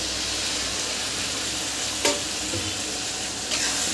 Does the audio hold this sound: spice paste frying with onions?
yes